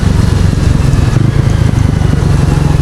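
A 2025 Bajaj NS400 motorcycle engine roars close and loud as it pulls through a quick-shifter gear change, a heavy, throbbing low drone whose pitch briefly dips and recovers before the revs hold steady.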